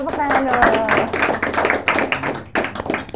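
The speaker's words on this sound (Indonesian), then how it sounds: "Tepuk tangan dulu" Scattered audience clapping at an Indonesian campus anti-violence talk, uneven claps mixed with murmuring voices and a short spoken phrase over the top, close and moderately loud.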